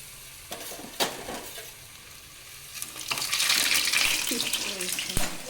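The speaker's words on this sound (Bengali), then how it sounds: "চিকেনগুলো ভাজার জন্য এবারে আমি কড়াই সাদা তেল দিয়ে অল্প অল্প করে ভেজে" Chicken pieces fry in white oil in a wok, the oil hissing and sizzling and swelling louder partway through, with occasional clinks of a utensil against the wok.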